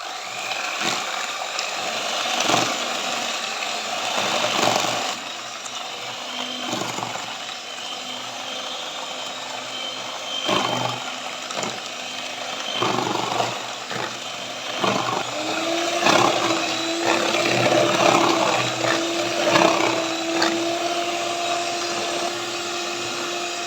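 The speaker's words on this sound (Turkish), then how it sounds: "mikserimle pürüzsüz hale gelinceye kadar çırpacağım. Önce düşük ayarda çırpacağım." An electric mixer whips cheesecake batter steadily for a long stretch, its motor pitch rising as the speed increases, with scraping knocks against the bowl.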